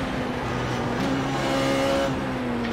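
A Formula Renault 3.5 engine in iRacing at Suzuka revs steadily at low to moderate rpm, a loud sustained buzzing drone with slight pitch shifts, alone without speech.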